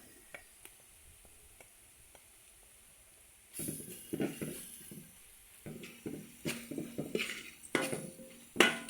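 Chicken masala spices being stirred into a pot for hostel-style chicken curry: after a quiet start, repeated scraping and clinking of a spoon against the pot, close and moderately loud, with a faint sizzle underneath.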